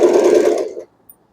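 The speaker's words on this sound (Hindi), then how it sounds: "मशीन मैंने यहाँ रोक दी, सीधी सिलाई लगाई थी।" Electric sewing machine running a straight stitch on a salwar, a short steady whirring burst that stops abruptly, followed by a faint click.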